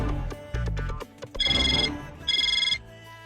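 A telephone call rings out as a phone is dialled: two bursts of electronic ringing tone follow a few short keypad-like beeps, close and clear.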